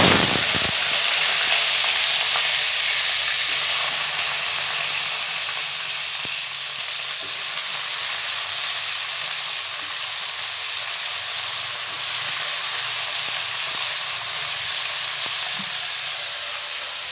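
Brinjal sautés in hot oil after popping mustard seeds, giving a steady, loud, close sizzle with a constant hiss and faint stirring scrapes throughout, no voices.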